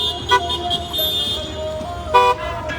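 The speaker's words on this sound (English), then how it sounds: "They're honking." Car horns toot in short bursts, two prominent honks among a continuous wash of street traffic noise at an outdoor community unity march in Los Angeles, fairly close and loud.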